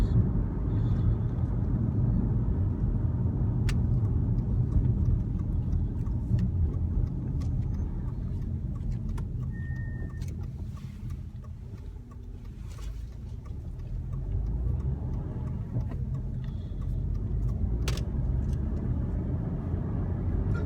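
Steady low engine and road rumble from inside a moving car, a continuous drone with faint ticks and no talking.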